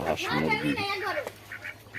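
Ducks quack in short bursts on a rural homestead where ducks and chickens are raised, heard under and after a person talking nearby.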